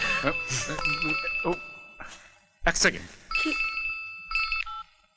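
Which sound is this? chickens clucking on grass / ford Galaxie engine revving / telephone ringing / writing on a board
telephone ringing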